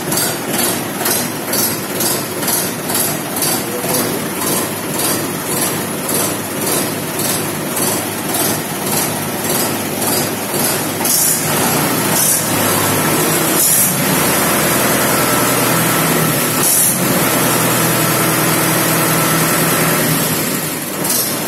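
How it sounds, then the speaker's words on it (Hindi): A 2018 Mahindra 575 tractor engine idling, a loud close chugging with a steady pulsing rhythm that grows rougher and louder partway through, with no talk over it. "अभी आवाज देखो ट्रैक्टर की,"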